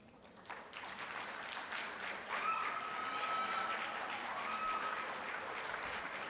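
An audience applauds the school principal at a student writing-challenge program: steady, fairly quiet clapping that starts after half a second and holds through, with a faint whistle-like tone drifting over the middle.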